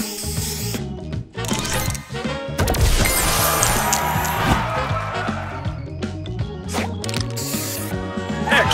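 A spray booster effect fires in the Match Masters puzzle game, a loud busy burst of clattering, ratcheting mechanical clicks and crashing smashes layered over bright game chimes, continuing in choppy bursts.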